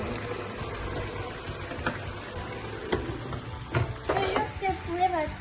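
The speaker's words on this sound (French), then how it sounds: "Toujours secouer votre poêle pour que ça ne crame pas" Chicken with onions and lemongrass frying in a pan that is shaken, giving a soft continuous sizzle with shuffling, sliding bursts of food moving against the metal.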